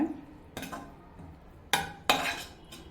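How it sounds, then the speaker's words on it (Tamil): Lemon rice masala is mixed in a pan with a metal spoon: several sharp scrapes and clinks against the pan, spaced apart over a faint background hiss. "லெமன் சேர்த்ததுக்கப்புறம் நல்லா மிக்ஸ் பண்ணி விட்டுக்கோங்க"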